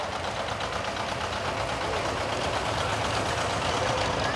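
A vintage farm tractor engine runs steadily and close by at a pioneer village parade in Minnesota, a continuous rumbling chug with no pauses or voices.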